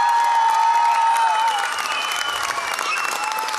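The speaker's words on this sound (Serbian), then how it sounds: "Treba mi interakcija, jedan aplauz veliki." A concert hall audience claps hard and continuously for a long-running children's choir, a dense, loud wash of applause with a faint sustained tone fading beneath it.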